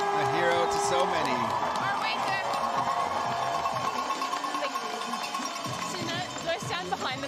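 Crowd at a women's 20 km mass start cross-country ski race in Lake Placid cheering and ringing cowbells, a broad wash of noise under an announcer talking throughout.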